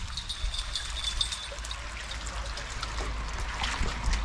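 Water trickling down a pipe at an outdoor picnic area in County Londonderry, a steady close dribbling splash with light bubbling, continuous under faint outdoor ambience.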